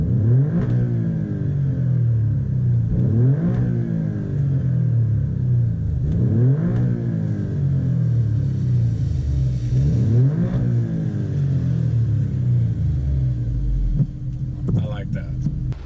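Alfa Romeo Stelvio Quadrifoglio engine in race mode, blipped into several sharp revving bursts at a steady rhythm over a loud, deep idle rumble, heard close up.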